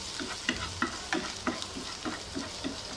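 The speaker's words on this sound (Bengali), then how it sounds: "এখন আমি এই রসুনটা খুব ভালো করে তেলের মধ্যে ভেজে নেব।" Crushed garlic stirred and fried in hot mustard oil in a frying pan, a steady close sizzle broken by regular scraping stirs about every third of a second.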